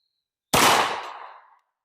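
A single close, loud 10mm handloaded pistol round fired over a chronograph cracks sharply, then its report decays over about a second into quiet.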